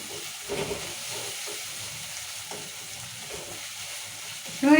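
Potatoes frying in oil with salt and turmeric while being stirred, a soft, steady sizzling hiss with occasional light stirring scrapes and a louder clatter right at the end.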